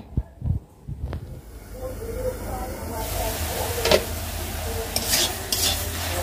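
Greens are boiled on a stove, with a few sharp pot clanks and stirring noises first, then a steady simmering hiss and bubbling at moderate volume.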